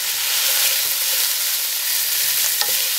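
Chopped potatoes sizzling in a frying pan, a steady close-up crackling hiss with light stirring scrapes and no talking.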